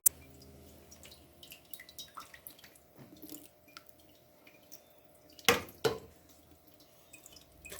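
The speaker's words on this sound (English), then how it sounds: "So I'm going to go ahead and strain it out here." Dandelion liquid strained through a coffee filter while making dandelion syrup, heard as soft, sparse drips and small splashes, with two louder bursts of pouring near the end; no talking.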